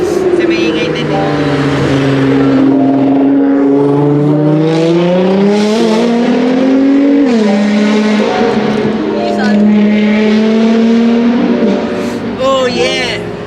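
A loud Nissan GT-R sports car engine roars close by, its pitch climbing and shifting as the car accelerates past.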